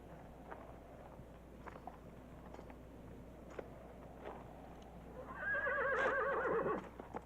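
A horse gives one loud, wavering whinny near the end, after quiet scattered knocks and shuffles, with no talking.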